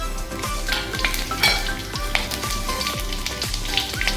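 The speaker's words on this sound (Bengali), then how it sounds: "এবার দিয়ে দেবো কালো জিরে আর লঙ্কা ফোড়ন।" Black cumin seeds and chili tempering in hot mustard oil give a close, continuous crackling sizzle with scattered pops and light scraping, heard alone.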